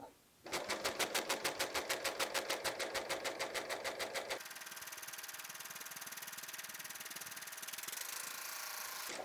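Serger sewing machine stitching along the edge of a placemat, a loud rapid mechanical whir with a steady pulsing rhythm that drops to a smoother, faster hum partway through, close up and without talk.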